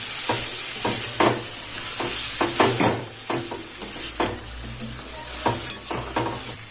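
Raw mango sautéing in oil in a pan for mango thokku, a steady close sizzle and fry hiss with repeated stirring scrapes and clinks at an irregular rhythm, no talking.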